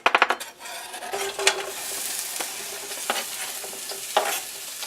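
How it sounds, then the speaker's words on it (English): Thinly sliced shallot and pepper rings sauté in olive oil in a nonstick skillet, with a steady close sizzle, a few sharp clinks at the start and occasional stirring scrapes. "I'm going to add my thinly sliced shallot and my peppers that I sliced into cute thin little rings"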